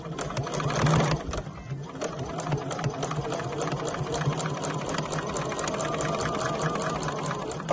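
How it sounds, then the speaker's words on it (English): A sewing machine backstitches through two layers of scrap fabric, its needle running in a steady, rapid mechanical patter close by for the whole stretch, with a brief louder burst near the start and no talking. "we're going to sew down both of these. Bringing the needle forward so I can backstitch."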